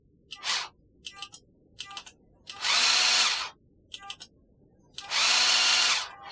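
An electric whisk mixer whirs in short bursts, then in two longer, steadier runs of about a second each, close and loud, with quiet gaps in between.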